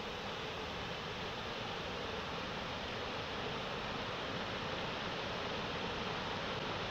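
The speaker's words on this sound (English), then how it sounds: "This is the view from the top of the waterfall." Victoria Falls near Applecross, a gentle rocky cascade, heard from the top as a steady, broad rushing wash of water with faint wind, constant and unbroken throughout, with no voices.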